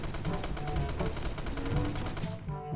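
Sustained automatic fire from an M60 machine gun in a shooter game, a steady rattling stream of shots lasting a few seconds before cutting off abruptly.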